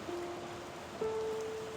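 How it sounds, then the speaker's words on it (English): Steady rain falls on a gloomy afternoon in the video game Back to the Dawn, a soft continuous wash with a faint tonal hum underneath, with no voices. "the game begins with a rainy afternoon"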